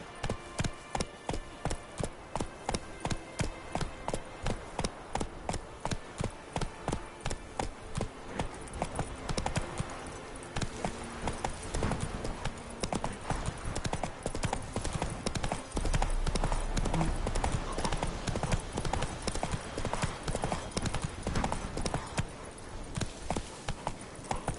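Roach the horse gallops in The Witcher 3, its hoofbeats drumming in a fast, even clip-clop rhythm that runs loud and close for over twenty seconds. The footfalls turn denser and less regular partway through.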